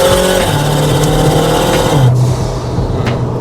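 Mitsubishi Lancer accelerating hard on a winding mountain road, engine note climbing loud and close through gear changes, with pitch drops between shifts.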